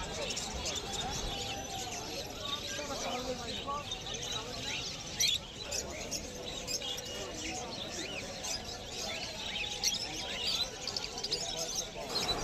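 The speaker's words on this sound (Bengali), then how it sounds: "এখানে কিছু লুটিনো লাভবার্ড আছে, পেয়ে যাবেন 1200 টাকা পেয়ার" Caged lovebirds and zebra finches at a pet market chirp and tweet faintly in a busy, scattered chorus, with someone talking over them throughout.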